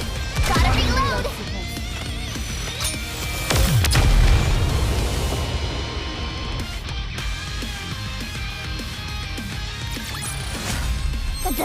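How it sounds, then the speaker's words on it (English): Explosions boom and crash in the video game Nikke: several heavy blasts with sharp impacts and lingering rumble, under excited in-game voice lines and effects. "The bigger the boom, the bigger the win!"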